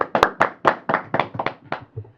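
Studio audience applause greeting a guest on an interview show, a short run of sharp, uneven claps that fades out after about two seconds.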